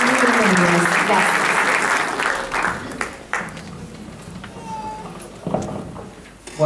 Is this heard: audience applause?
yes